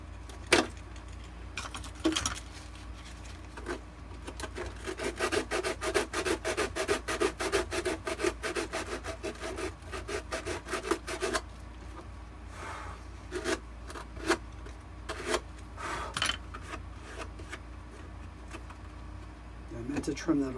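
Shadow Trooper armor being trimmed by hand, an extra quarter-inch piece cut away with rapid rasping, scraping strokes that build into a dense burst midway, then scattered sharp clicks and scrapes, close up with faint talk.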